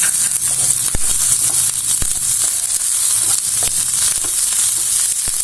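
Onion sizzling steadily in mustard oil with ginger in a pan, a loud continuous frying hiss with occasional sharp pops and faint stirring clicks throughout.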